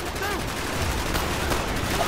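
Dense, continuous gunfire from the Xbox 360 shooter Call of Duty: Black Ops, a steady fusillade of overlapping shots filling the whole stretch with no clear gaps.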